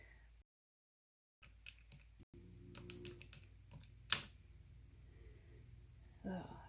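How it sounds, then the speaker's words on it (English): Typing on a computer keyboard while working math problems, a quiet run of separate key taps with short pauses, one sharper click, and faint talk in the background. "I'm just going to type everything."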